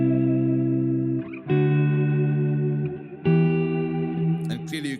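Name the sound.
non-linear phase reverb on guitar, Strymon BigSky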